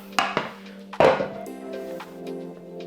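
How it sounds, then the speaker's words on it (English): A cooked Spanish tortilla of egg and potato is flipped out of a pan onto a board, giving a few sharp metallic clanks and knocks, one heavier thud, then softer settling clatter close by. "So I'm just going to flip it out onto this board."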